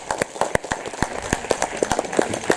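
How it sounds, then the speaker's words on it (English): A church congregation at a Christmas carol service claps for the pastor, a quick run of sharp, uneven handclaps from a small group, fairly close and steady for a couple of seconds with no talk over it. "Could you give a big, the clap for to Pastor?"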